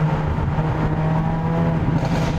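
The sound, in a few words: Hyundai Avante N exhaust popping and crackling in tunnel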